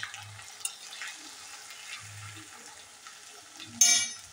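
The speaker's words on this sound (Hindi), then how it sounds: "अब इन दोनों को हम अच्छे से मिक्स कर लेंगे।" Chopped green chilies and garlic frying in oil while being stirred, a soft, continuous sizzle with light scraping touches and a brief louder burst near the end.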